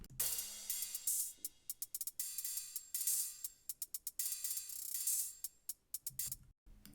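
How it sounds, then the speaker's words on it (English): Crisp electronic trap hi-hats fire in rapid rolls and stuttering bursts, with brief gaps between fast ticking runs. "I'm just throwing the rolls all over the place on that hi-hat to add that trap drum emphasis"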